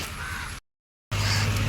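A crow cawing close by, two loud harsh bursts separated by a short silence.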